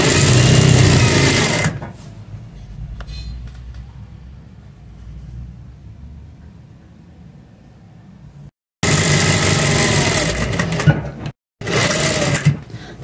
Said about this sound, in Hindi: सेंटर की सिलाई भी लगा लेंगे।